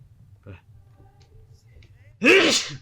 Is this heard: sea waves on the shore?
no